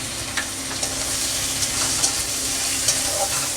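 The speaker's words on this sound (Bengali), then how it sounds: "এই মশলাটা একটু ভালো করে কষা হয়, না পুড়ে যায়।" Ginger paste, green chilli, turmeric and salt frying for a rohu fish curry with bitter gourd and potato, a steady close sizzle with light stirring scrapes every so often, no voices.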